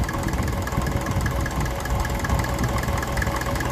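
A 1954 Ferguson TEF 20 diesel tractor engine idles nearby with a steady, rough knocking chug and vibration, even and continuous, with no voices.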